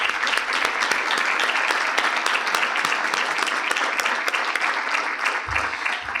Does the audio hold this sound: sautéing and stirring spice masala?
no